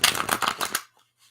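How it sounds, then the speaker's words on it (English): Playing cards being shuffled in a quick riffle of dense papery flutters for under a second, then near silence with a faint tap or two. "So one more shuffle."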